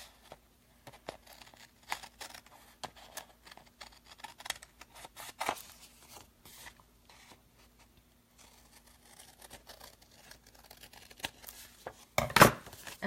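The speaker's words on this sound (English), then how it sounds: "I'm going to use these great big shears." Large shears snip along the edge of a designer paper envelope, a scatter of faint, sparse cuts and rustles that builds into a louder crisp burst of cutting near the end, with no talking.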